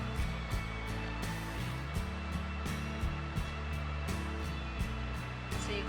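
A sewing machine stitches a fabric collar in quick, rhythmic bursts, its motor whirring close and fairly quiet with short pauses between runs of stitches.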